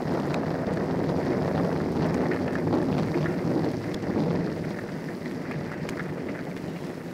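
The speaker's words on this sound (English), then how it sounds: "Listen, the storm is passing." Radio drama storm effect of rain with low rumbling thunder, a dense steady roar that eases slightly in volume toward the end, no voices over it.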